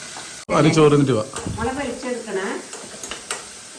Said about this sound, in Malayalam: അപ്പോൾ നമുക്കിത് എണ്ണ വെച്ചിട്ടുണ്ട് ഉള്ളി മുപ്പിക്കാം